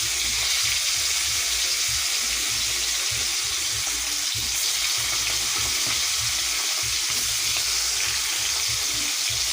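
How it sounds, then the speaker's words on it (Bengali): Chicken meat fries in a pan for a spiced khichuri, giving a loud, continuous close sizzle and crackle throughout with no voices. "মাংসগুলি সমস্ত মাংস লাল লাল করে ভেজে নেব।"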